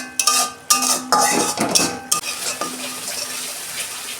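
Spices being stirred and fried in a pan for a quick vegetarian gram-flour dish, with sharp metal spoon clanks and scrapes against the pan over a faint sizzle, loud hits spaced irregularly and then fading into softer scraping.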